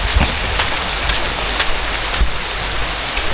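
Steady heavy rain pouring down, a dense continuous hiss with scattered drops pattering on surfaces nearby.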